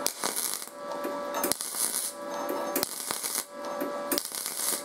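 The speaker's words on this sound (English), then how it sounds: "Now I'm going to do it in rapid succession" A MIG200 welder spot welding in rapid succession, with repeated buzzing, crackling bursts separated by sharp clicks, steady and close, with an electrical hum throughout.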